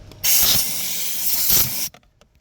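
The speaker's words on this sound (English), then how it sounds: "Then next you just have to bring an air blower, then give it a good blow" A single loud burst of blown air hisses for about a second and a half, then cuts off sharply, as an air blower cleans the pollen filter of a 2015 Citroën C4.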